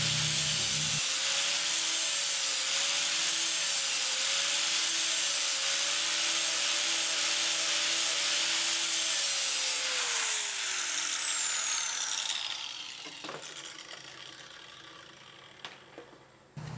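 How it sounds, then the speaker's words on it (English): A power grinder removes the burr from a sharpened, once-dull lawn mower blade: a loud, steady whine and grind that winds down toward the end, followed by a few faint clicks and knocks. "We're going to pull that burr off the back of that, and then we'll be done sharpening our blades."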